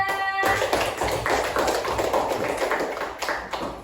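A group claps steadily and densely for a friend during an Indonesian Islamic study session, a loud, continuous patter of many hands that starts after a short pause and carries on without any talking.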